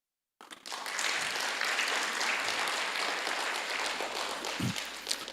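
Church congregation clapping during a Sunday service, a dense, sustained round of applause that starts abruptly after silence and holds steady, filling the hall from a moderate distance.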